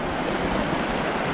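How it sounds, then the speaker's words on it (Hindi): Mountain stream at Zero Point in North Sikkim rushing hard over rocks, a loud, steady broadband roar of churning water heard close by, with a hint of wind and no voices. "बहुत ही ज़ोर से पानी जा रहा है।"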